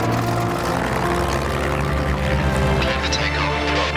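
British Airways airliner taking off, a loud continuous engine roar with deep low rumble and rising hiss building steadily over four seconds.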